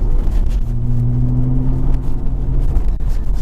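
A B5 Audi RS4 Clubsport drives along a village road, its engine a close, steady low drone with a brief sustained tone, plus road rumble and cabin noise.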